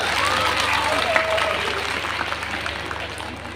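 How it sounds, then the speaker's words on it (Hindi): Loud applause from a crowd at a Lok Sabha election campaign gathering in Etah as a political leader, Shivnath Tiwari, is called to the stage, steady dense clapping with faint voices underneath, slowly tapering off. "नेताजी का स्वागत जोरदार तालियों के साथ।"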